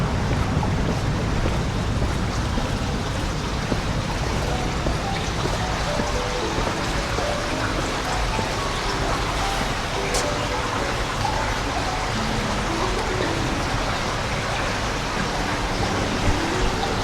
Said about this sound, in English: Hopefully you can hear the water stream over there.